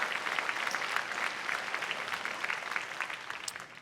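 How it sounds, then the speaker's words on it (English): Steady applause from the audience at an NSCC graduation ceremony, many hands clapping in a dense, even wash that holds for the whole stretch at moderate volume. "I think that deserves a huge round of applause"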